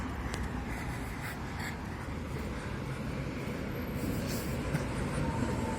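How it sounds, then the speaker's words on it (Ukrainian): A tram on route 2 rolls along a street in Lviv, Ukraine, a steady low rumble of wheels on rails, moderately near and continuous with traffic ambience and a faint squeal. "Трамвай номер 2 їде."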